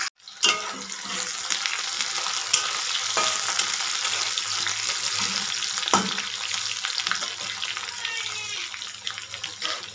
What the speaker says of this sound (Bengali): আর পেঁয়াজ কুচিগুলোকে ভালো করে ভেজে নেব।